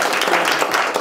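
Dense audience applause fills a brief moment at an artist book tour talk at Raygun Lab, a steady broadband clatter of many hands clapping at even loudness throughout.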